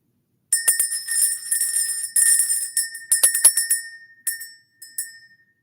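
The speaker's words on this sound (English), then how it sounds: "Let's ring the bell." A small bell rings repeatedly and brightly up close, in quick clusters of sharp strikes with shimmering overtones, then a few final isolated tings that fade, rung to clear the energy before a spiritual reading.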